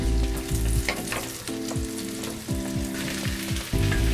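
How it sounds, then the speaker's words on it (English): Pumpkin cooks in melted butter in a pan, a loud, steady, close sizzle broken by repeated scrapes and clinks of stirring, with no voices. "I'm going to dump in my pumpkin. And let it cook, stirring occasionally, until the pumpkin turns from orange to yellow."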